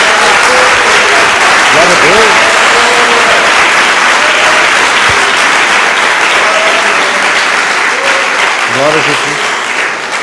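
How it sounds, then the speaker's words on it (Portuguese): A congregation at a church service applauds loudly and continuously, a thick roar of clapping throughout while a voice speaks and calls out over it. "Uma salva de palmas a Jesus."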